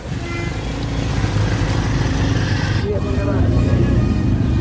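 Busy evening road traffic in Lucknow during the rainy season, a steady dense rumble of cars and motorbikes passing close by, continuous throughout with a voice talking over it.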